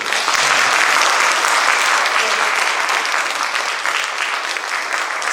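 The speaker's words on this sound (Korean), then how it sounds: "우리 사모님들한테 한번 격려의 박수" Audience applause for pastors' wives at a Korean church testimony service: steady, loud, dense clapping from a large crowd, sustained evenly throughout without voices.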